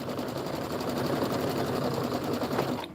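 A Kimberbell embroidery machine stitches quilted borders on a Hoppin' Down the Bunny Trail bench pillow, its steady rapid whir running unbroken and fairly close before cutting off abruptly at the end.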